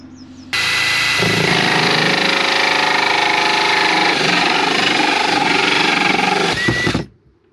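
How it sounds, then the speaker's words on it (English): A power drill cutting a large circular hole in the wall of a Fiat Ducato camper van, a loud continuous grinding whine that starts abruptly, holds steady for about six seconds, then winds down. "Drill a big circle in this wall now."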